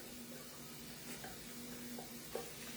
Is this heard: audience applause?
no